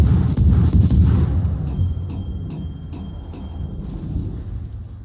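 Naval guns firing in World of Warships, heavy booming blasts with rumbling decay, a few rapid shots early then a steady low rumble and faint repeated clicks, no voices.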